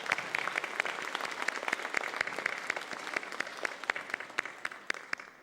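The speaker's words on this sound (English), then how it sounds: "Let's give him a round of applause." Graduation audience applauding for a returning stage performer, a dense steady patter of many hands with sharper individual claps standing out, holding strong before tapering slightly at the end.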